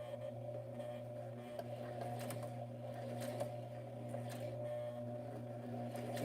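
A sewing machine stitches slowly over altered paper clips, its motor giving a steady close hum throughout with faint ticking from the needle.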